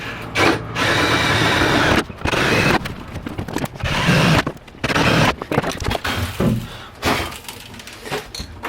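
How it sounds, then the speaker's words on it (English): Power drill boring hitch holes from above through the bed of a 2021 Ford F150 PowerBoost, loud whining bursts of drilling separated by short pauses, repeated several times close to the microphone. "Now I'll go up top and drill it down from above."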